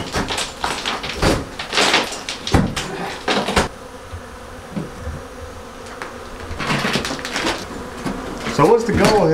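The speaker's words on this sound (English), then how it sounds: "See, this is all bees." Honey bees buzz around an exposed hive during a removal and relocation, a close, busy drone mixed with intermittent knocks and handling noises while people talk over it.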